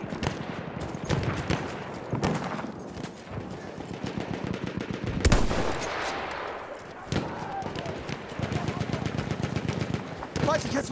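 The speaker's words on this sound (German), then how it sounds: "feindliches Maschinengewehr!" Rapid bursts of enemy machine gun fire crackle throughout a Verdun video game battle, dense rattling volleys with heavy single shots and a loud blast near the middle.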